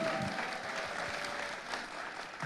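Steady applause from a large audience at an Indonesian political event, a thick, sustained patter of many hands that stays even and unbroken for the whole stretch, with no talking.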